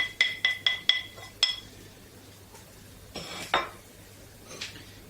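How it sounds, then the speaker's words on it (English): Pork mince mixed with thyme, sage, breadcrumbs and cooled onions in a bowl, with a run of sharp close clinks at the start and a few scattered knocks and scrapes later, no talking. "add the thyme, the sage, the breadcrumbs and your cooled onions to your pork mince mix"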